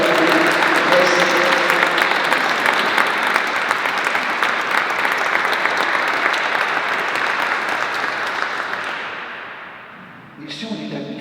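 An audience at a church ceremony claps steadily in a dense, sustained round of applause that gradually fades and stops, followed by a brief pickup of background sound.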